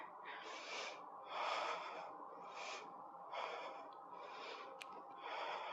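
Deep, slow breathing during a guided mobility yoga flow for MMA, heard as about six soft, close inhales and exhales in an even rhythm, faint and unaccompanied by talk.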